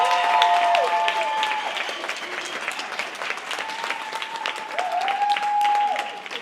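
Audience at the Experience MX 2024 closing session breaks into loud, sustained applause for Jackie, a dense wash of many hands clapping steadily throughout with a faint voice briefly over it.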